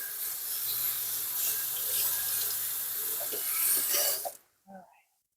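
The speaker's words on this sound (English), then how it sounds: "Wash the hands." Kitchen tap water runs loud and close into a sink during handwashing, a steady hiss that cuts off abruptly near the end, followed by a brief small clatter.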